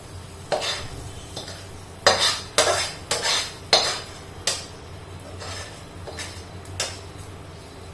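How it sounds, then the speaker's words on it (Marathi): A spoon stirs sabudana khichdi mixture in a pan with the gas turned off, giving a series of scraping, clinking strokes that come in uneven bursts, close by and moderately loud, with no talking. "असं मिक्स करून घ्यायचं सगळं"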